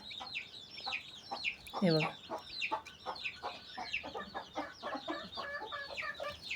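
A hen sitting on hatching eggs clucks repeatedly in short, uneven bursts close by, with one longer squawk early on and a brief spoken word from a person.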